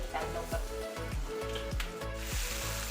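Vegetables fry in a hot pan, a dense, steady sizzle with scattered crackles and a few soft stirring knocks underneath, close up and continuous.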